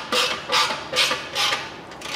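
Metric starter bolts being snugged up by hand on a Chevrolet 454 big block engine, four evenly spaced ratcheting bursts close by, with no talking.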